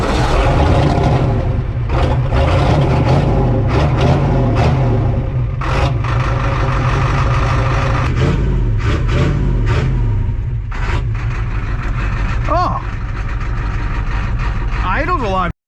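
A Ford F-350 with a 7.3 IDI diesel engine idles nearby with a loud, steady low rumble throughout, and brief voices come in toward the end.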